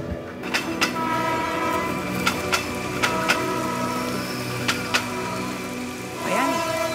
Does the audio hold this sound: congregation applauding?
no